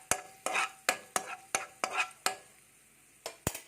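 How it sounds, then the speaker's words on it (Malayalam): Raisins frying in about two tablespoons of ghee over a low flame are stirred for a potato biryani: roughly nine sharp, close spoon scrapes and clinks against the pan in a steady rhythm, with a faint sizzle underneath and no talking. "ഒന്ന് ഇളക്കി കൊടുക്കാം."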